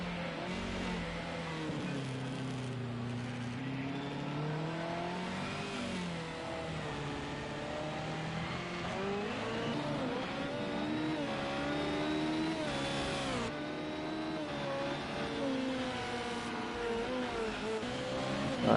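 Formula 1 race cars at the Monaco Grand Prix in a racing video game, high engine whines rising and falling in pitch through gear changes, steady and fairly loud throughout with no voices over them.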